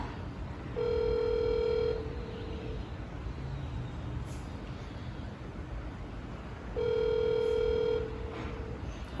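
A phone rings twice, each electronic tone lasting about a second and the two rings several seconds apart, loud and near over a steady background hiss.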